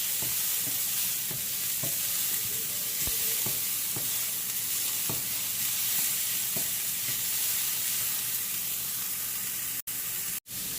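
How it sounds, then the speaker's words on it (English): A utensil stirs a half-cooked mixture in a frying pan, scraping at irregular intervals with sharp clicks over a steady sizzle, close and alone; the sound cuts out briefly near the end. "Keep on stirring until everything looks like it's half cooked"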